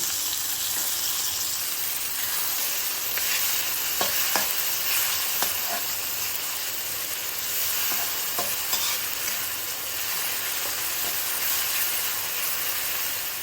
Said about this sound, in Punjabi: ਇਹ ਸਾਰਾ ਸਮਾਨ ਆਪਾਂ ਇਕੱਠਾ ਭੁੰਨਣਾ ਹੁਣ